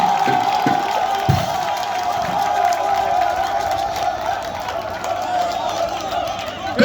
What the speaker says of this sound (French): Je voudrais que vous acclamez le village Zougouzwa.